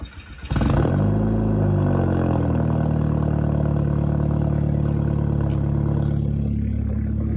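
Cold start of a Volkswagen GTI engine: a brief cranking stutter, then the engine catches with a loud rev flare that settles into a steady, slightly lumpy high idle, close by with no voices.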